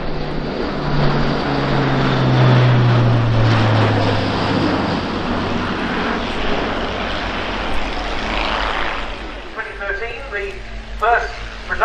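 An Airbus A400M Atlas propeller transport flies a display at an air show, its turboprop engines droning loud and steady, then fading somewhat, while a commentator talks over the roar.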